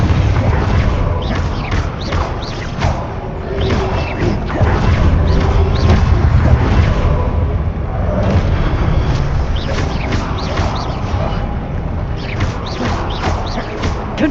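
Repeated Confringo blasting-spell explosions in Hogwarts Legacy, a dense run of booming, crashing blasts over continuous loud battle noise with a voice shouting spell names throughout.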